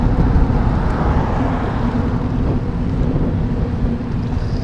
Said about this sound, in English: Oh my, that's some wind.